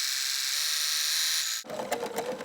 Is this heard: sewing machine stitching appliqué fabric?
yes